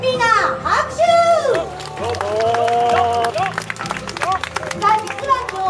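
Scattered audience clapping at a stage show with costumed characters breaks out under an announcer's lively voice and upbeat background music, quick and crisp but not very loud.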